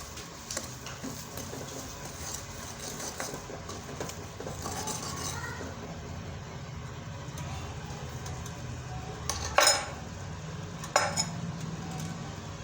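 Turmeric, red chili and garam masala being stirred in a pan for a drumstick vegetable dish: a soft, continuous scraping with faint sizzling and a couple of sharper utensil clinks near the end, with quiet speech in the background.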